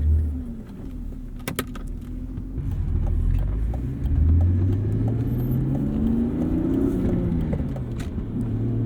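A BMW E36 with a non-M50 intake manifold runs on the road, its engine a steady low rumble with rising and falling pitch sweeps as it accelerates and shifts, plus a few brief clicks early on.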